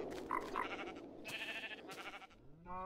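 Sheep in the Tekkit video game bleating, a few short nasal calls over a soft background hum, fairly close and moderately loud.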